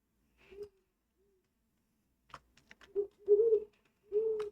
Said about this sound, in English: got different kinds of owls.